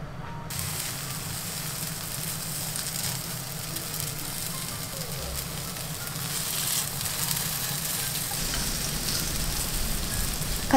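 Food sizzles in a frying pan over medium heat, a soft crackle that begins almost at once and slowly builds into a denser, louder fry toward the end.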